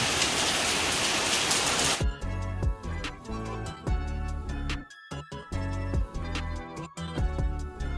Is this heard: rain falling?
yes